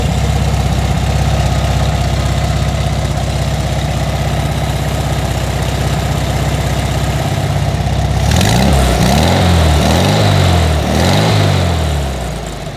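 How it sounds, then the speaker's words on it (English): A vintage Volkswagen Beetle air-cooled engine fitted with fatter exhaust tips idles with a steady low rumble, then revs up in several throaty surges near the end, heard alone without talk. "If you hear this sound on this motor, you know, with those fatter tips, it sounds like a really nice rod"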